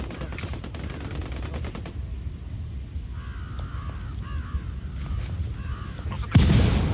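Gunfire in the Ghost Recon Wildlands video game cracks in a few scattered shots amid a low rumbling background, with distant bird-like calls and a sharp, louder burst near the end.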